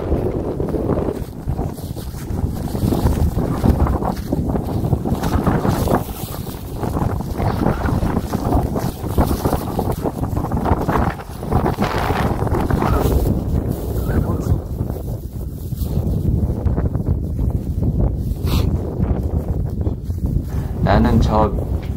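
Strong wind on a hillside by a volcanic cone roars and buffets the microphone in loud, continuous gusts that fill the whole stretch.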